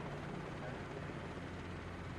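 Helicopter in Microsoft Flight Simulator 2020 played in VR over Madrid, a steady droning rotor and engine hum that fills the whole stretch at an even level with no pauses.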